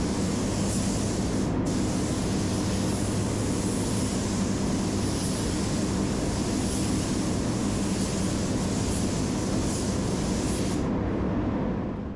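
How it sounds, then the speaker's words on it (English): A spray gun sprays BMW Mineral White pearl paint onto a BMW X6 fender, a loud, steady hiss held close for about eleven seconds before it cuts off, with no talking. "paint into the spray gun, and then we're gonna go and blend it out now"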